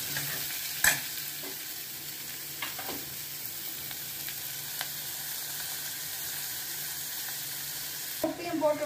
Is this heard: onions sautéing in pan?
yes